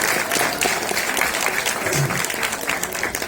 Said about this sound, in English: Could we give a round of applause?